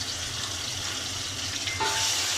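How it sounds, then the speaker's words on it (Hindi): Garlic and ginger sizzle loudly with light-browned onions in a pan for an aloo palak dish, a steady close frying hiss that continues without pause and with no talking. "प्याज लाइट ब्राउन हो गया है, इसमें मैं लहसुन अदरक डाल दूंगी।"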